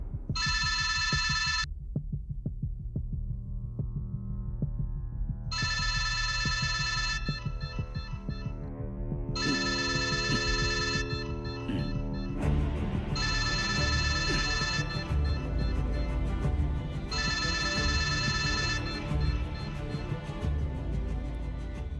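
A telephone rings in repeated electronic bursts, five trills spaced a few seconds apart, over a low throbbing background with music-like tones.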